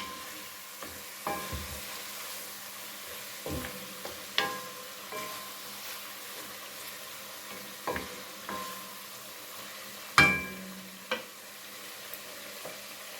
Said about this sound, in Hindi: एक एक पीस जो चिकन का है वो हमने निकालना है और यूँ इसके अंदर शामिल करते जाना है। फुल आंच के ऊपर हमने फ्रेंड्स इसको कुक करना है।